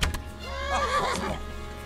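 A horse in the video game Kingdom Come: Deliverance lets out a short, clear whinny with rising and falling pitch, close and fairly loud, lasting about a second before fading.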